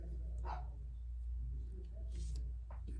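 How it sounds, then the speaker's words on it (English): A dog barks a few short, fairly faint times in the background of an indoor room during stencil and brayer craft work, set against a low steady hum. "Probably hear my dog barking."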